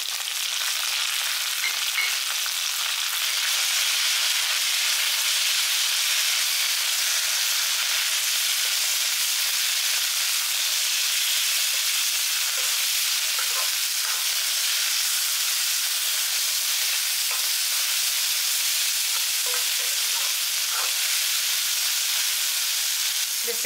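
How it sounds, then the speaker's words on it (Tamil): Steady, dense sizzling of coriander leaves frying in a hot pan, a continuous hiss with occasional faint stirring sounds, no talking. "மல்லித்தலையை போட்டு எல்லாமே சேர்ந்து நல்லா ஒன்றா வதங்கிடுச்சு"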